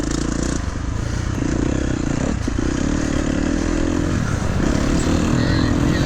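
Dirt bike engines rev and strain continuously at a muddy hare scramble race at Budds Creek MX, loud and close, with scraping and clattering under a steady mechanical roar.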